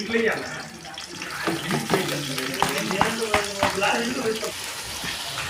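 Tripe fries in a pan with onions, green chilies and chili powder, sizzling and hissing up close as it is stirred, with clanks of a utensil against the pan.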